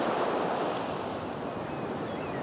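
Ocean surf in The Sims 3 video game rolls as a steady, broad wash of waves with a breezy hiss, continuous and fairly close, with no voices.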